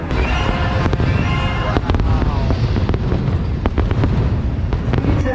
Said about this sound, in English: You'll notice the fireworks are still going off over our head